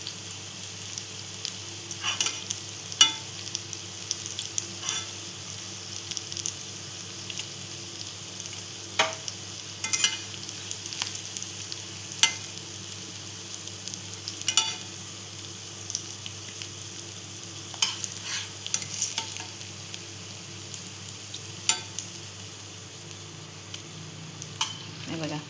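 Potato and poha cutlets fry in a pan with a steady soft sizzle, broken by occasional sharp crackles and pops, heard at close range without talk.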